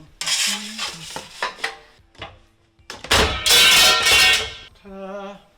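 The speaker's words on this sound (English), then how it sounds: "Now that we got our piece sheared out" Aluminum sheet being cut with shears during a repair on a Ford F450 truck, heard as bursts of harsh metallic crunching and scraping, loudest in a sustained stretch near the end, with a brief tonal hum closing it.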